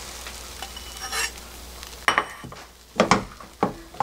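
Beaten egg mixture sizzling in a pan while a rolled omelette with plenty of onion is cooked, a steady hiss first, then sharper scraping and sizzling bursts as more egg goes in, close and moderately loud with no talking.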